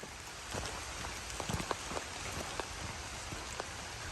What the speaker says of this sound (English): Raindrops be falling on my head, falling on my head, falling on my head.